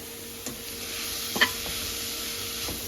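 Potato and vegetable bhuji cooking in a pan with spices and pickle oil, a steady soft sizzle with a few light stirring scrapes, close up and without talk.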